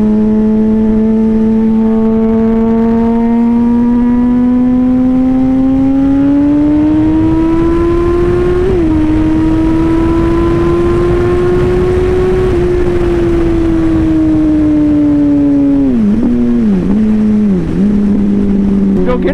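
A car accelerating onto a highway, its engine droning loudly and steadily as the pitch climbs through the gears, rising again before several quick revving dips near the end, heard from inside the car.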